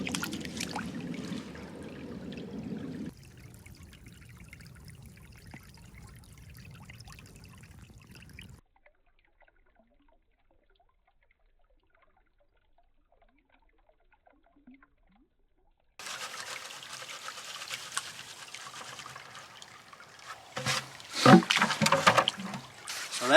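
Water and gravel rush through a river sluice fitted with dream mats. The steady wash drops to near silence for several seconds, then returns louder with gritty rattles of stones.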